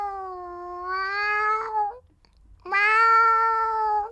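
Cat giving two long, loud, drawn-out meows separated by a brief silent gap, close and clear with nothing else heard.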